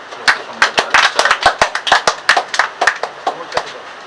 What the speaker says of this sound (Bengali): আমি একটা করতালির মাধ্যমে ওনাকে সম্মান জানাতে চাই।